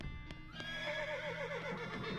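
Horse neighing in the video game West of Loathing, a clear whinny with a few hoof clops beneath it, fairly near and alone without speech.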